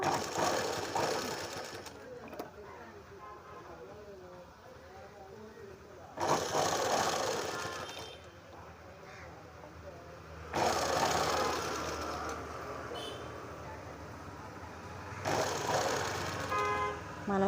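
An electric sewing machine stitching an off-collar neck onto a dress runs in three loud bursts of a few seconds each, a close, steady whirring hum, with someone talking in the quieter stretches between.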